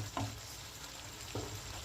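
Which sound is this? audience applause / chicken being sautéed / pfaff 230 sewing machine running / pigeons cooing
chicken being sautéed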